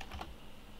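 A couple of quick, quiet keystrokes on a computer keyboard, soft clicks close up against a faint room hiss.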